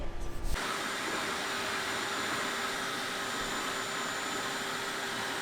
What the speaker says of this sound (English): then we're going to vacuum one more time